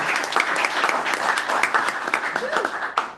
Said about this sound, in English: why don't we clap for Laura Rothrock, our first